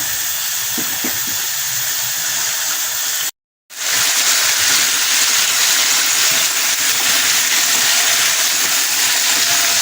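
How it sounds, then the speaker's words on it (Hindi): Marinated chicken for shahi chicken korma fries over a high flame, giving a loud, steady sizzling hiss that briefly cuts out for a moment, then carries on. "मैरिनेट किए हुए चिकन को हाई फ्लेम पे भूनेंगे"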